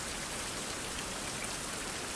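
Steady rain pattering in a survival video game, a continuous even hiss of raindrops with no voices, constant and moderately loud throughout.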